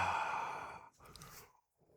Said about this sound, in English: All this talk about sleep's making me yawn.